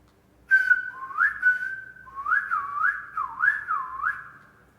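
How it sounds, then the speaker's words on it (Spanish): A single person whistles a phrase in Canarian whistled speech, a loud, clear, close tone that holds steady, then swoops up and down in rapid gliding contours, with no talk around it. "Voy a silbar ahora la frase original y quiero que la lean mientras yo la silbo"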